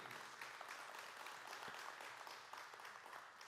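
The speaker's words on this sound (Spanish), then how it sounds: "Denle un aplauso al rey." A church congregation breaks into steady, sustained applause at a sermon, a dense wash of many hands clapping together at a distance in a large room, fairly quiet and continuous with no voice on top.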